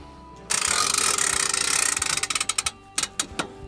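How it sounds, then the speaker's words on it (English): A winch ratchet on an MDC Cruizer Highside camper trailer clicks close by as the top is secured. A rapid, steady run of clicks slows into a few separate, louder clacks. "Then to secure your top down, your winch just comes out."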